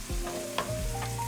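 A generic bag of frozen mixed vegetables sizzles in plenty of butter in a pan, a brief close crackling hiss with a faint scrape of stirring and no talk.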